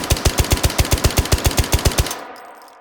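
In the H3VR video game, a handgun fires a rapid, even string of about fourteen sharp, loud shots over two seconds. The last shot rings out and fades into a quiet tail.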